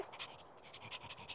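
Rapid, steady panting from a pet dog fills the whole stretch, breathy rhythmic huffs sitting close and moderately faint, with no voices over it.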